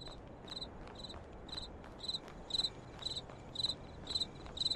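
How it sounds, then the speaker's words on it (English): Crickets chirping at night in a foggy video game graveyard, a steady rhythmic series of about a dozen short trilled pulses, clear and fairly close against a quiet background with no talking. "loud crickets."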